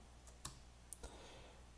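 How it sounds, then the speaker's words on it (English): Two or three quiet, crisp keyboard Enter key clicks spaced apart, faint and close against a low background hum. "So I'm just holding enter for each of these"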